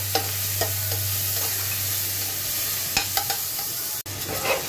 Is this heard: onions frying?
yes